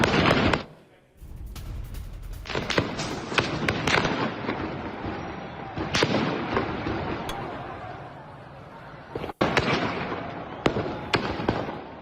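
Sharp cracks and pops of gunfire ring out amid crowd noise at street protests in Iran, with a steady background roar and occasional louder bursts scattered over several seconds.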